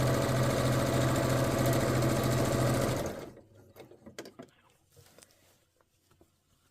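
A sewing machine runs steadily and loudly while stitching the back of a dress made from a Vogue 9292 pattern, then stops abruptly after about three seconds, leaving faint handling noises.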